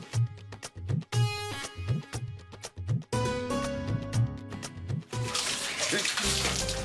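Water splashes and pours over a mud-covered person in a Bengali drama scene, a steady rushing gush with bursts, mixed with music and voices speaking nearby.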